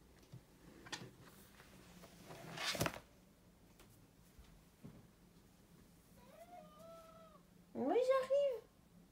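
A pet cat meows near the end of a quiet indoor stretch with a low background hum, giving a couple of short rising calls after a brief faint one, while a woman moves around at home.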